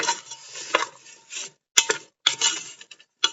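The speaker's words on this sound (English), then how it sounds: "Give it a good stir." Wooden utensil stirring Hungarian mushroom soup in a pot, a series of short scraping knocks and clinks in irregular bursts with brief silent gaps, close and clear with no talk.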